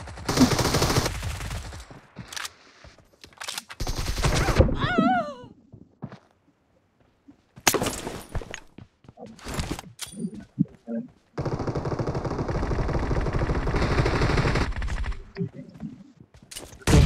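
Gunfire fills a mobile shooter game's team deathmatch, with bursts of rapid automatic fire and sharp single shots broken by short pauses and game sound effects, close and loud, with a game announcer's voice over parts of it.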